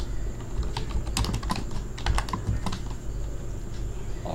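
Steady typing on a computer keyboard, a continuous patter of close key clicks with a few sharper strikes, heard alone without speech for several seconds.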